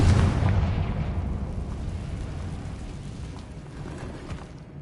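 A Confringo spell blast in Hogwarts Legacy erupts as a heavy low boom that rumbles and slowly fades over several seconds, with a faint crackle trailing off.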